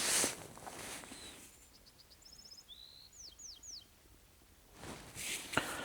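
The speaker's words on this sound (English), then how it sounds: "Love hearing the birds in the morning." Several birds chirp and whistle in short bursts in the morning, with a few rising slurred notes, over quiet outdoor ambience at a campsite and some rustling at the start and end.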